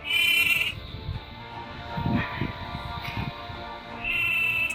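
A sheep stuck in a river bleats loudly several times, with long wavering cries at the start and end and rougher sounds between, close and clear over a low background rumble.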